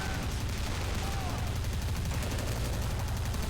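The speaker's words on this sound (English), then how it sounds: "these machine guns are absolutely devastating" Machine guns rattle in an open-field battle between grey and blue army men in Army Men of War, a dense, continuous barrage of rapid bursts with no pauses across the whole stretch.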